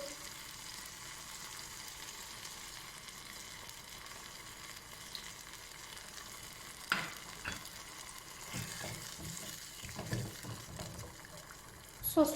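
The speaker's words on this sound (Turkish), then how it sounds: "şuna birazcık da sıcak su ekliyorum" Zucchini noodles sizzle faintly and steadily in a pan after a splash of hot water is added, with a soft continuous hiss and a few light stirring clicks and taps toward the end.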